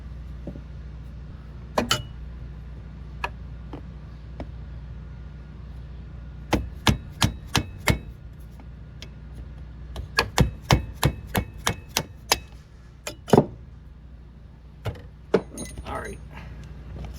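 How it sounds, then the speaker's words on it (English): Metal socket extension tapping a hydraulic clutch line fitting loose on a Honda GL1500 Goldwing, a string of sharp close taps in scattered bursts, some in quick runs of several hits. "I'm going to take a socket extension and see if I can just tap it out"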